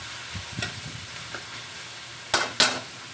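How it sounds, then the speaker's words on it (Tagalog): Onion, garlic and tomato sautéing in a pan for a green bean dish, a faint low sizzle under a few light stirring taps, then two sharp metallic scrapes near the end. "Gisa lang natin."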